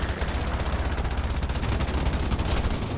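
A continuous burst of rapid machine-gun fire comes from a KI-27 otsu fighter plane in a combat flight video game. The shots are evenly spaced and loud, with no pauses, over a low engine drone.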